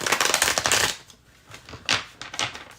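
Tarot cards are shuffled with a dense, crackling riffle of rapid card flicks, followed by a softer pause and a few more sharp riffling bursts.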